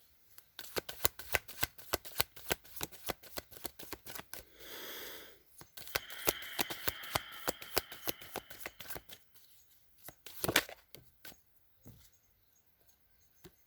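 Tarot cards are shuffled for a reading, giving a long, steady run of soft riffling and flicking close up, with a brief rustling pause partway through and no voices.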